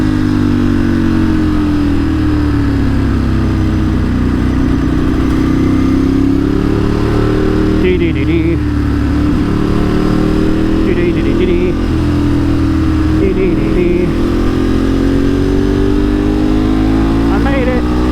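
A Ducati 1098S motorcycle rides through slow traffic, its engine droning loud and steady throughout with small shifts in revs and a few brief gear changes, plus wind noise, with no one speaking.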